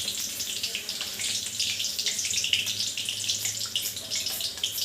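Curry leaves crackle and sizzle in hot oil in a pan, a steady bright hiss with small pops running continuously, close and fairly loud, with no talking.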